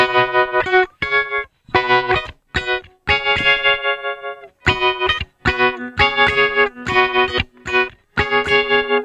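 Electric guitar plays a rhythmic line with a choppy tremolo effect, chords chopped into short pulsing bursts with gaps between phrases, played alone with a bit of reverb.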